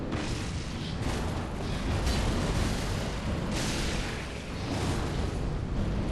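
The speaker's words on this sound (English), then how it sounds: "I'll try Black Fire Orb." Black Fire Orb spell explosions in the Dark Souls III video game: heavy, rumbling fiery booms rolling over one another in a loud, dense wash, with a few bigger surges standing out.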